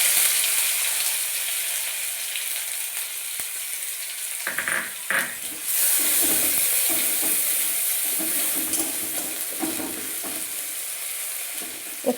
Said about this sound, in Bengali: তো তেল গরম হয়ে গেছে, এর মধ্যে আমি রসুন আর শুকনো লঙ্কা থেতো দিয়ে দেবো।